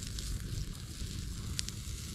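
A bonfire burning outdoors on a plot of former farmland crackles and hisses steadily at low volume, with a couple of sharper pops near the end.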